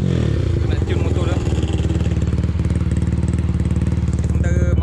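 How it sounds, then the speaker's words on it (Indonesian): A Yamaha Y15, RR or LC motorcycle engine idling steadily with throttle blips during tuning before a ride, loud and close with a continuous rhythmic thrum and some clatter. "Dia nak tune motor dia."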